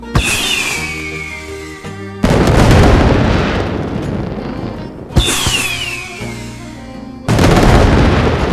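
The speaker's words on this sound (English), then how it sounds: "Let's see some fireworks." Fireworks in the video game My Time at Sandrock whistle up and burst in two rounds, each a rising whistle followed by a loud, booming crackling explosion that lingers and fades.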